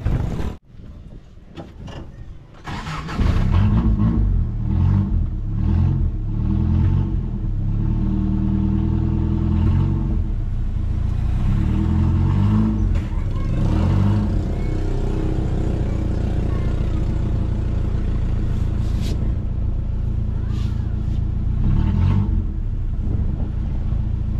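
A freshly overhauled owner type jeep engine turns over and runs close by, a low rumbling idle with some revving swells, steady and loud after a quiet start.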